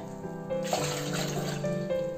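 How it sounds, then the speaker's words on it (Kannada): About four cups of water poured into a pot to be heated for rice-rava dough in a home kitchen, a steady rushing pour that starts abruptly and runs continuously, fairly loud and close. "ನಾಲ್ಕು ಕಪ್ಪು ಆಗೋಷ್ಟು ನಾಲ್ಕು ಪಾವನಷ್ಟು ನೀರು ಕಾಯಕ್ಕಿಡೋಣ"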